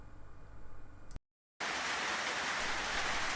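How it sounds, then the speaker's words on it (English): Rain falls on a tin shed roof as a dense, steady hiss, cut by a brief silent gap, then returning louder and brighter. "I hope you don't mind the rain coming down on my tin shed roof"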